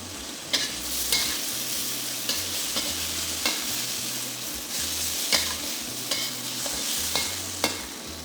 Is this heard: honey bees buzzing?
no